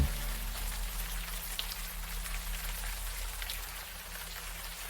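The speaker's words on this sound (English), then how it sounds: "the warm rain is coming down" Warm rain falling in the adventure game Unavowed, a steady, even hiss of drops over a low hum, moderately quiet and continuous with no voices.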